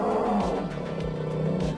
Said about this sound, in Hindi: वो गुस्से में गुर्रा रहा था।